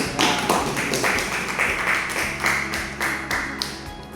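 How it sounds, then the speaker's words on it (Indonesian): Students in a classroom clapping together in a short round of applause, a loose rhythm of distinct claps close by that carries on steadily for a few seconds. "Berikan aplaus dulu."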